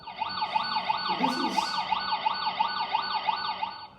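A wailing emergency vehicle siren sweeps up and down repeatedly in a steady cycle, sounding slightly muffled and thin, picked up by a vibration sensor on a car windshield.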